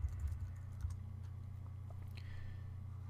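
A search typed on a computer keyboard: a faint, brief patter of key clicks early on, then near silence.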